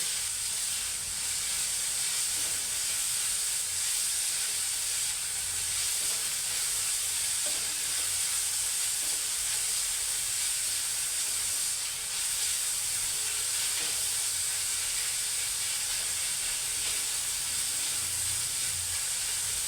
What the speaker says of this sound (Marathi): शिमला मिरची टाकते म्हणजे ती वाफेवर शिजून जाईल चांगली